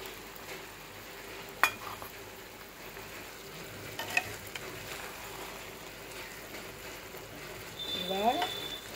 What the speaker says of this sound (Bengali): এবার পোস্তটাকে মিশিয়ে নেব।